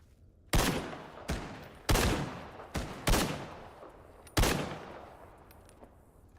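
Gunfire in the S.T.A.L.K.E.R. GAMMA video game: five sharp, loud shots at irregular intervals, each with a short decaying tail, with no talking.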